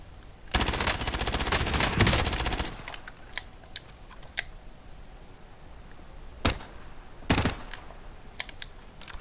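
Enemy gunfire in a Call of Duty match on PS4: a sustained burst of automatic fire up front, then scattered single shots and two short bursts, fairly close and loud, with no talk.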